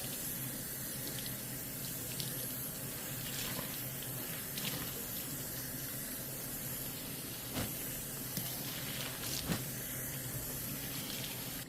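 Water runs steadily from a sink tap, rinsing shampoo out of a curly wig cap: a continuous close hiss and splash with small occasional spatters, no talking.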